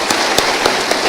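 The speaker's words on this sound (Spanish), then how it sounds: "Dale un aplauso al Señor" A church congregation claps together during a Spanish-language service, producing a dense, continuous wash of applause with a few louder claps standing out.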